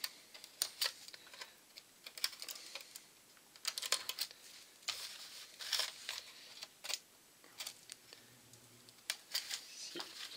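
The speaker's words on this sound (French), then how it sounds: "on va découper dans les angles." Scissors or a blade snip covering film at the corners of a model aircraft fuselage, a string of small, sharp, irregular clicks and cuts close up in a quiet room.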